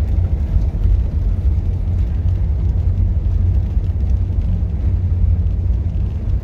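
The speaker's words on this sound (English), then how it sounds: "Pretty stout small block in this car." A 1972 Monte Carlo with a stout small block V8 idling in a deep, steady rumble, loud and close with a constant low throb and no talk.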